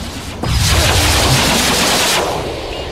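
Missiles launch from a mech in Mechwarrior 3 multiplayer as a loud, dense roaring barrage that starts abruptly, holds steady for nearly two seconds, then tails off.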